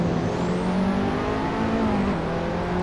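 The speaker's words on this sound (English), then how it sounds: "So on the brakes here, down from 6th down into 3rd" Race car in Assetto Corsa braking and shifting down through the gears on track, a steady loud engine drone with pitch steps as the revs change, no talking.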